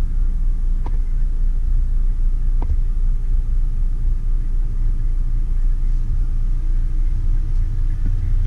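A 2013 Hyundai Elantra idling and creeping in reverse, giving a steady low engine rumble throughout with a couple of faint clicks on top.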